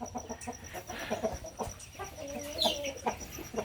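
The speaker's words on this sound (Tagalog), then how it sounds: "Tapos ito pala yung ating mga Brahma hen." Native and Brahma hens cluck steadily in a backyard flock, with repeated close-up clucks and squawks rising and falling over low farmyard noise.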